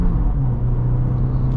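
An Acura Integra A-Spec engine hums loudly and steadily while driving, a close, constant low drone with a slight shift in pitch, heard from inside the car.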